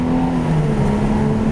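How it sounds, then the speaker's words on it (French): A Ford Mustang engine runs loudly at close range, a steady deep droning growl with a strong low hum, brief and without talk. "Oh, le bruit du moteur, il est fou."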